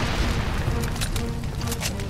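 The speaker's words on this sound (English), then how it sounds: "What was that? An explosion of sorts" Explosion in the video game Far Cry 2, a deep booming rumble followed by scattered sharp bursts and crackles over continuous low-end noise.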